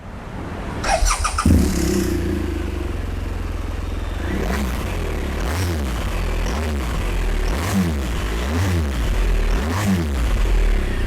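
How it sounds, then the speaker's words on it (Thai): A 2015 BMW R 1200 GS motorcycle engine clatters to life, then idles with a steady throb and a few rhythmic throttle blips, recorded close with no talking. "เดี๋ยวเราลองฟังเสียงเครื่องยนต์กันดูนะครับ"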